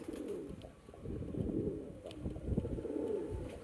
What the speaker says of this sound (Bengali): এটা ডিপ লাইট পেয়ার রয়েছে পেয়ারটা কেমন ডাকছে দেখো